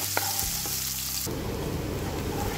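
Chopped onions hit hot oil with cumin, bursting into a loud, continuous sizzle that fills the rest of the moment after a brief stir.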